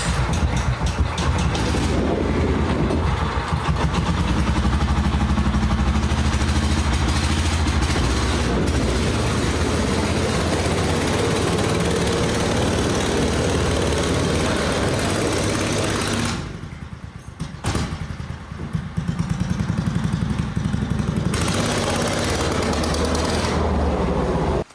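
A rare Hoot six-wheel amphibious buggy idles and runs on pavement, a loud, steady, rough engine drone that dips briefly before resuming.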